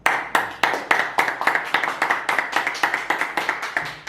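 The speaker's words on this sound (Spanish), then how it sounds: "despedir como se despiden a los artistas en el escenario, con un aplauso" Sharp, rhythmic hand claps in a studio send-off at the end of a show, close and fairly loud, coming in quick regular beats throughout.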